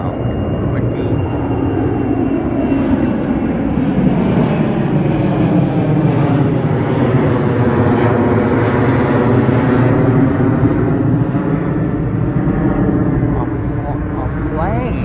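An airplane flies overhead with a loud, sustained engine roar whose pitch sweeps smoothly as it approaches and passes, then fades slightly toward the end.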